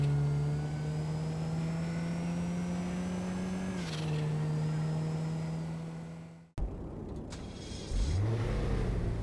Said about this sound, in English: When equipped with a turbo, the turbo's louder than the car itself.